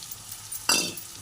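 Garlic tossed into onions already frying in a pan and stirred, a low quiet hiss suddenly jumping into a loud, bright sizzle that slowly fades over about half a second.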